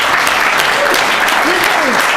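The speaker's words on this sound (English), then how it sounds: "A round of applause for these guys." Audience clapping for champion sailors at a celebration event fills the room, steady and close for a couple of seconds.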